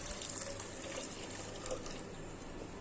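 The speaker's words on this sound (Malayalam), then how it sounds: "ഇനി നമുക്കിത് വേവിക്കാൻ ആവശ്യത്തിനുള്ള വെള്ളം ചേർക്കാം" Water is poured into a pressure cooker holding soaked broken wheat for payasam, a steady close splashing stream that runs for the full clip with no voices.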